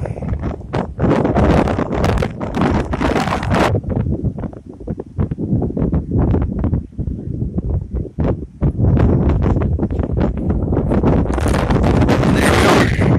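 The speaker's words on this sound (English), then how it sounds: "It is windy out here." Strong wind buffets the microphone outdoors on an open field, a loud continuous roar with gusty bursts and crackling rustle throughout, no speech.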